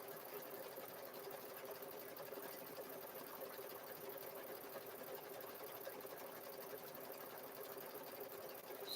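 An embroidery machine quilts a zipper bag held in the hoop, running in a steady, even whir throughout with no pauses and no voices.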